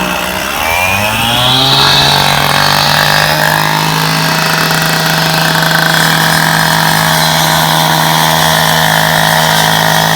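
Power saw cutting non-broken asphalt for a repair, its engine revving up over the first couple of seconds and then holding a loud, steady whine as the blade grinds continuously through the pavement.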